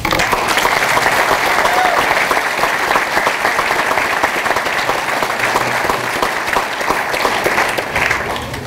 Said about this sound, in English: Please join me in a round of applause and appreciation for the people in your life who supported you to this